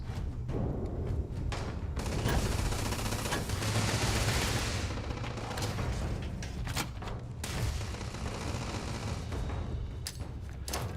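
Weapon fire in Starfield, rapid bursts of gunshots with booming impacts over a dense rumbling background, several volleys separated by short pauses, loud and close with no talk.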